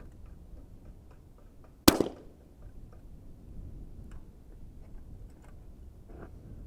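A single sharp shot from a Vudoo Gun Works V-22 rimfire rifle at a long-range shooting range cracks once and fades quickly, followed by faint ticking and quiet background noise.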